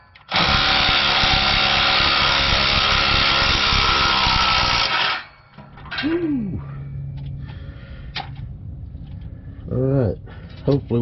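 An impact wrench hammers loudly and continuously for about five seconds on exhaust bolts of a 2011 Toyota Tacoma, then stops, followed by quieter clanks, squeaks and a voice.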